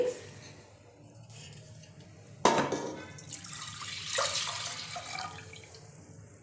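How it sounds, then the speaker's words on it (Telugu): Milk poured into a pressure cooker on a lit stove for chakra pongali, a sudden splash onset followed by several seconds of bubbly trickling liquid, fairly close and clear. "ఇప్పుడు పాలు పోసుకుందామండి"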